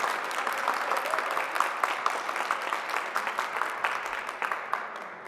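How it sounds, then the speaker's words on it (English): An audience applauds steadily at a community vaccination event, dense clapping that holds for several seconds before tapering slightly. "Let's give Amos a round of applause here."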